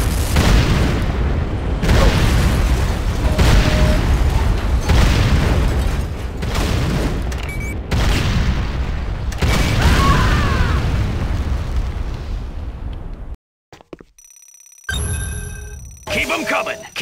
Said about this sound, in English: GDI weapons factory destroyed. Enemy structure destroyed.